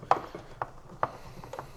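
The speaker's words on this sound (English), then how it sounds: "I'm gonna use this to remove these screws" A hand tool turning screws out of an APC Easy UPS BVX1600 makes a few crisp ratcheting clicks spaced about half a second apart, close and moderately loud, with no voices.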